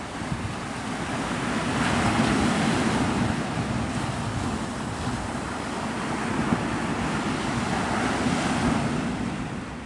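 Steady surf and wind at Pensacola Beach, Florida, a continuous loud wash of breaking waves with gusty wind buffeting the microphone throughout.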